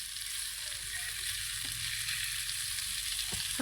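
Fish frying in a pan over an outdoor wood fire, a steady broadband sizzle running throughout with a few soft clinks and stirring knocks near the end.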